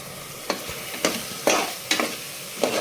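Coriander powder and turmeric frying in oil for kuska rice, a constant sizzle broken by five sharp spoon-stirring scrapes against the pan at roughly half-second intervals, close and clear with no voices.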